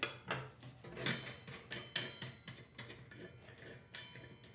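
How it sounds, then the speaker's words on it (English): A wrench turns the blade nut of a table saw counterclockwise to loosen it, giving a run of close metallic clicks and ratcheting ticks in an uneven rhythm, with nothing else heard. "Then we simply have to turn the nut counterclockwise. This will loosen the nut"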